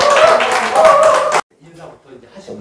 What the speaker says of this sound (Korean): 여러분 박수로 환영해 주세요